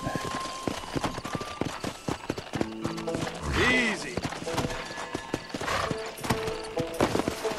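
A horse in the Red Dead Redemption video game clip-clops on its hooves and gives a brief whinny midway, with someone talking over it.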